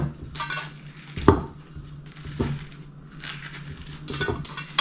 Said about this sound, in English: I use a jar lid to scoop out my pumpkin.